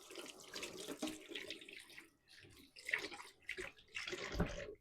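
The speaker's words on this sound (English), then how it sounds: "Let me rinse my hands off real quick" Water runs from a kitchen tap while hands are rinsed off mid-way through making sticky oat-and-molasses cookie dough, a steady splashing flow that dips briefly and then returns.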